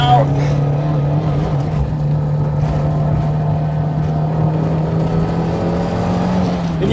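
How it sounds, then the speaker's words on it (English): A Toyota AE86 with a 4AGE engine and six-speed gearbox holds a steady, loud drone on a mountain road, the engine note easing under braking and swelling again as it powers out, with a voice talking over it. "We're gonna brake and power out."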